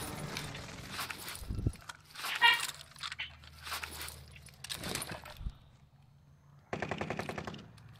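Gunfire in Call of Duty Warzone Pacific, several short bursts and cracks scattered over a low ambient hum, moderately close, with clattering movement and a sustained burst near the end.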